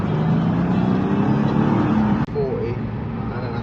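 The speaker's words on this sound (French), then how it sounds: "c'était une Revuelto qui vient de passer devant nous" A Lamborghini Revuelto drives past with a loud engine drone that fades slightly after a brief dropout, while people talk over it.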